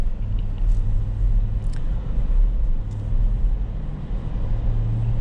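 A 2008 Lexus LX 570 driving on a city street, heard from inside as a steady, loud low engine rumble and road drone with faint tyre noise, continuous and unbroken throughout.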